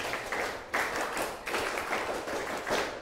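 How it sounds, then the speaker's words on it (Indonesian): A classroom of students applauding a student group: bursts of many hands clapping, swelling and fading in a rough rhythm, with a few scattered taps and no speech over them. "kita beri tepuk tangan untuk kelompok 8"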